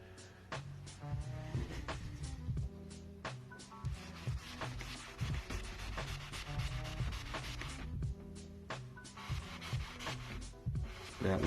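A Mr. Clean Magic Eraser is rubbed back and forth across a painted wall, making close, steady scrubbing strokes with rhythmic friction and brief pauses between passes.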